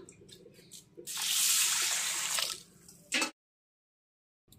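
Moong dal lentils are rinsed in water in a kitchen, with a loud splashing swirl lasting over a second, then a short slosh and drip before near silence.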